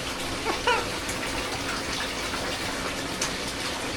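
Water gushes steadily into a large 900-gallon aquarium tank, a continuous rushing fill sound heard alone and fairly close.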